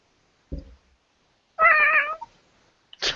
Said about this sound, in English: Why is it a demon cat?